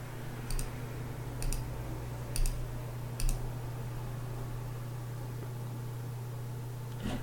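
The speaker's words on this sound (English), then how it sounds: "And we just go through this clicking the various defaults." Four sharp computer mouse clicks land at roughly even intervals early on, quiet and close over a steady electrical hum and faint background hiss, then only the hum remains.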